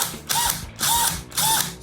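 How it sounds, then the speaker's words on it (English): A power drill fitted with a glass and tile bit bores a pilot hole in a glass bottle, giving three close, loud whirring bursts with short pauses between them. "I'm just going to drill a quick pilot hole, I think."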